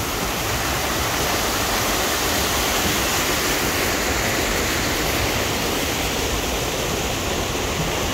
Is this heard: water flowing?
yes